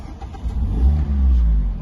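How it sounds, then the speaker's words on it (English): A Mazda MX-5 with a 1.5 SKYACTIV-G engine turns over and fires up, its low engine note swelling and settling into a steady, close idle with no talking. "They sound absolutely glorious on start up. It makes a really nice engine note."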